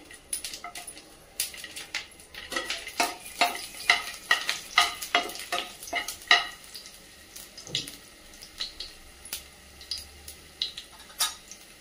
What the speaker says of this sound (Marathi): त्यामध्ये पाव चमचा जिरे टाकून घेतले। त्यानंतर ह्या लसणाच्या कांड्या घेतल्या त्या टाकल्या त्यामध्ये